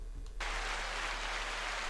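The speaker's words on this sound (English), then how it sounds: "it's the applause" A podcast applause sound effect cuts in abruptly and plays as a dense, steady wash of clapping to the end, loud and uninterrupted, with no talking over it.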